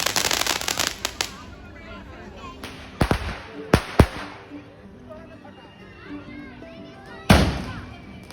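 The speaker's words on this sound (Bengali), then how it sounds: "আশা করি শুনতেই পাচ্ছেন বাজির কীরকম আওয়াজ চলছে" Diwali firecrackers and fireworks go off in a street at night, with sharp cracks, sudden loud bangs and crackling bursts spread across the stretch, some near and some distant. Scattered voices and background commotion sit underneath.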